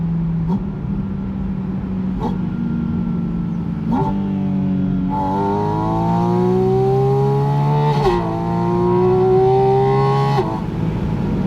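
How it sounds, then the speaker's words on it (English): A Porsche Spyder RS engine revs hard in manual mode after paddle downshifts, its loud, close, tuneful howl climbing steadily in pitch and dropping back sharply at each gear change. "it opens its throat and it's just melodic. This car has just the best engine sound"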